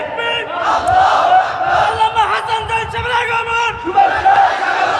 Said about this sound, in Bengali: একটা তাকবীর দে শুরু করে